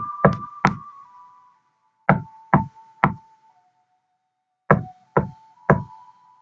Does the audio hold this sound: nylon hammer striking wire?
no